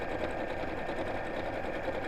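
A sewing machine runs steadily while stitching a double-pocket book cushion with long stitches close to the fabric edge, producing a continuous close, even mechanical hum that stays level throughout.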